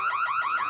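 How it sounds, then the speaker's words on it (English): A home alarm system going off with a loud, continuous electronic siren that warbles rapidly up and down in a steady repeating pattern, close and alone. "Oh no, I forgot to shut off the alarm system."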